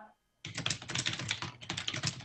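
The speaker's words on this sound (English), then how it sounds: "Hang on, whoever's typing, can you please mute?" Rapid typing on a computer keyboard during a city council work study meeting, a steady patter of close key clicks that starts abruptly after a brief silence and continues alone.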